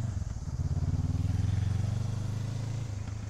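A motorcycle idles and putters steadily at close range on a training track while turning a slow U-turn, its low engine note holding fairly even throughout, without talk.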